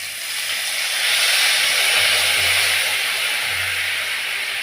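Turmeric paste sizzling as it hits hot oil in a pan already tempered with nigella seeds, while a mola carplet fish curry is being cooked. A loud, steady hiss with no voice.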